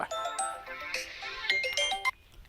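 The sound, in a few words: phone ringtone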